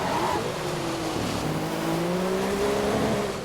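Race cars in a racing video game at the Belgium circuit roar steadily, engine tones rising and shifting as they accelerate together, loud and continuous with no talk.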